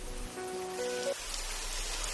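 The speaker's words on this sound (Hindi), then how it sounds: "भैया, ये बारिश नहीं रुकने वाली।" Heavy rain falls steadily in a persistent downpour, a dense even hiss throughout, with a brief musical tone fading out in the first second.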